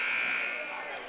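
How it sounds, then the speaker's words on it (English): A basketball game buzzer sounds at a Hicksville vs. Antwerp boys varsity championship game in the gym, a loud sustained electronic tone holding steady for about a second over crowd murmur. "Buzzer sounds."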